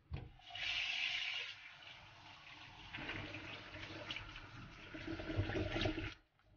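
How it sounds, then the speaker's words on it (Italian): Cold tap water rinsing blanched bones in a colander for shoyu ramen broth, a steady close rushing and splashing stream with shifting intensity as the bones are moved about, ending abruptly. "E risciacquiamole con acqua fredda"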